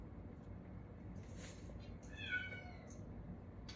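A cat gives a faint, brief meow against a steady hiss of background noise, with a soft voice nearby.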